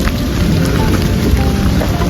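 Heavy rain driven by wind on a hill, a loud dense roar of downpour and gusts filling the whole moment, with a deep rumbling low end, no voices.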